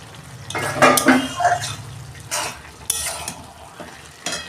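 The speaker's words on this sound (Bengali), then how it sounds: "পুরো ঢাকনা খুলছি" A metal lid comes off a pot of cabbage cooked with fish head, giving clanks and scrapes of cookware against a soft simmering background, with a few sharp metallic knocks.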